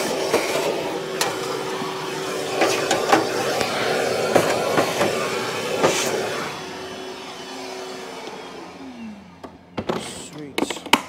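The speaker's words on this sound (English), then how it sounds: "I'm going to crack on hoovering" Vacuum cleaner hoovering during electrical work on wrap-around distribution board trunking, a loud steady whine with clattering knocks that winds down near the end, followed by brief bumps.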